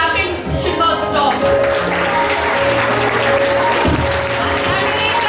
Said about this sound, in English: The clapping should not stop.